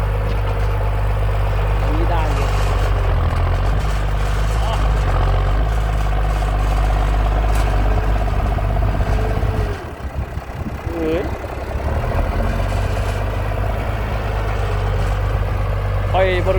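Two giant tractors push termite-mound soil across a rice field to ready it for sugarcane, their heavy diesel engines droning loud and steady up close, with a brief dip in the rumble partway through and voices talking over the engine noise.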